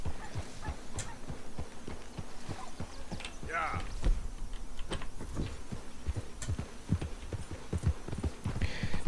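A horse in Red Dead Redemption 2 walks with a steady clip-clop of hooves, layered over game ambience while someone talks intermittently.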